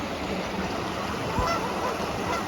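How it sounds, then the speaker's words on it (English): Canada geese honk somewhere off in the distance during a countryside walk in the Peak District, Derbyshire. A few faint calls sit over a steady wash of broadband outdoor noise that could be a nearby babbling brook. "Being joined by a few geese over there, Canadian geese."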